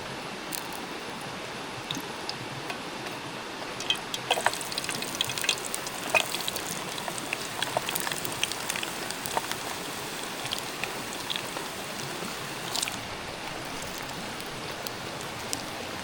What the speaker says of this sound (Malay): Nak hujan dah ni geng. Dah rintik-rintik dah ni.